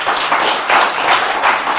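Audience applause at a French school awards ceremony for economics prizes, as a student prize winner is called to the podium; steady, dense clapping fills the brief stretch at even loudness with no voices.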